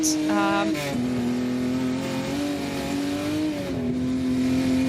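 Historic racing cars on a wet track at a memorial trophy race, engines droning loudly and shifting pitch with a change of gear, while a commentator talks over the noise.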